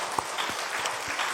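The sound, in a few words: church congregation applause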